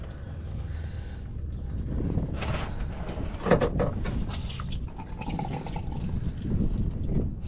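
Diesel fuel drains from a loosened fuel filter on a 2019–2023 Chevy or GMC Duramax, giving a faint trickle and irregular drips close by, with some handling clatter and no talk.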